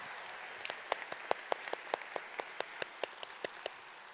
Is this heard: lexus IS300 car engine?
no